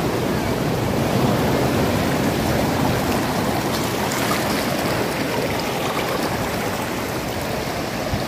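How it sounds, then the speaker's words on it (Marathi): Seawater washing up a beach at Devgad and dragging sand back with it, a steady, loud, broadband rush of surf and flowing water that continues unbroken with no voices. "पाणी बघा कसं वाळू पूर्ण खेचत घेऊन चाललंय पाणी"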